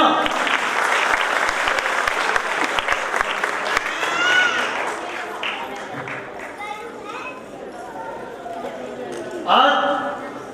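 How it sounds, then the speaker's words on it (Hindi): A crowd at a Dr. Ambedkar Jayanti celebration programme claps loudly for a little child, with a dense burst of applause that thins out while a voice speaks over it and a few scattered claps linger. "नन्हे बच्चे के लिए जोरदार तालियां।"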